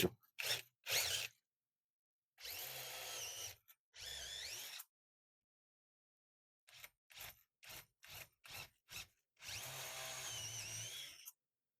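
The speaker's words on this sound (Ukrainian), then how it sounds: "Тому я сверлю максимально перпендикулярно до стіни уявної." An electric drill bores an 8 mm dowel hole into a wall, heard in loud close bursts: a few short triggers, two longer whining runs, a quick series of pulses, then a sustained final drilling, with silence between.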